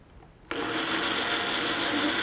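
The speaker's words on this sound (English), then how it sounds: "this will be blitzed till it's nice and smooth" Blender blitzing lassi ingredients into a smooth puree, switching on abruptly after a brief quiet moment and then whirring loudly and steadily without pause.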